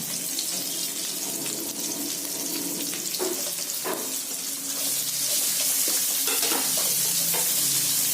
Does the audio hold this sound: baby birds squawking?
no